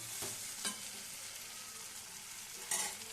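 Chicken curry simmers and sizzles in a pan as water from the spice bowl goes in, a soft steady frying hiss with a few brief brighter crackles and stirring scrapes, no voices.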